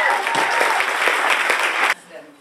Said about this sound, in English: please give a big round of applause to our local feature, Leisha Wharfield